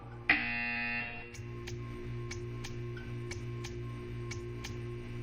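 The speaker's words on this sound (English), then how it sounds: "When you hear the buzzer, stare at the art." A loud electronic buzzer in the video game Portal 2 sounds for about a second, followed by a steady series of soft ticks over a low hum.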